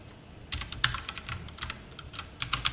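Keys tapped on a computer keyboard in short irregular bursts, close and fairly quiet, with brief pauses between clusters and no voices.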